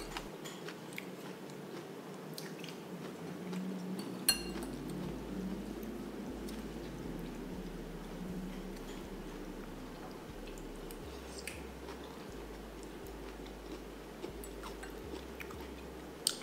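Someone close to the microphone chews crunchy greens with steady, soft, moist crunching and occasional sharper bites. A low background hum runs underneath and no one speaks.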